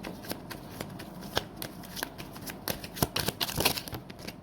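A deck of tarot cards is shuffled close by, a run of crisp riffling flicks and snaps that grows quicker and louder toward the end, with no talk.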